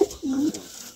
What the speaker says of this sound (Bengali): এটা হলুদ চোখী কবুতর।